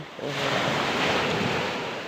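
Strong surf and gusting wind roar at the shore during squid fishing. Broad, loud wash of breaking waves swells after a brief quieter moment and rolls on continuously.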